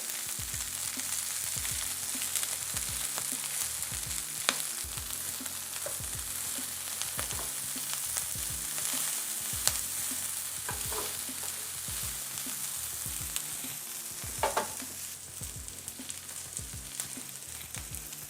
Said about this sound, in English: So now that our broccolini has been cooking for about 3 minutes undisturbed on each side